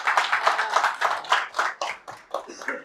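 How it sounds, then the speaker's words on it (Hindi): A live comedy-show audience claps for the elderly, a burst of brisk, uneven clapping from a modest crowd that thins out toward the end. "एक बार जोरदार ताली हो जाए बुजुर्गों के लिए"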